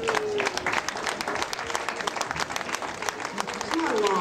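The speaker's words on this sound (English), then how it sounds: "let's have some more applause." Parade spectators applauding along the route of a Labour Day parade in Tombstone, moderate scattered clapping with a voice talking over it and occasional whistles.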